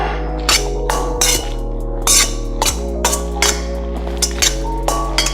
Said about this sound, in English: And we're gonna give that a nice little stir